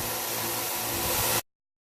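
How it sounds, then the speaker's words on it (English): A Hmong knife blade being reshaped on a grinder, a loud continuous close whine that cuts off abruptly after about a second and a half. "We're grinding up all of this bad stuff right here, okay?"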